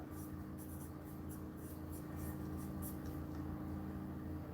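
Pen or pencil writing letters by hand on paper while doodling, soft scratchy strokes in a quiet room over a low steady background hum, close and faint.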